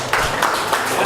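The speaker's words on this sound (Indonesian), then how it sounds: "Tepuk tangan sekali lagi untuk kelompok Susila dan kelompok Teresia" An audience at a group presentation session claps in a brief, dense burst of applause at close range.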